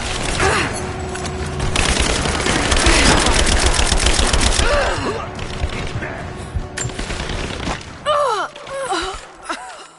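Heavy sustained automatic gunfire in a PS4 shooter, loud and dense for several seconds before thinning into scattered shots, with soldiers' shouted callouts and groans mixed in.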